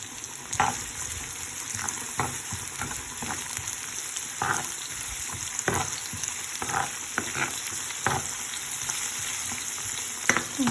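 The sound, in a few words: chickpeas frying in pan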